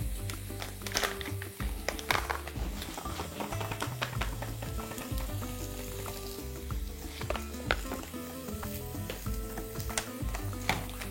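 Onion for a beef and bulgur soup sizzles steadily in a pan, a close, continuous frying hiss with occasional stirring taps and clinks throughout.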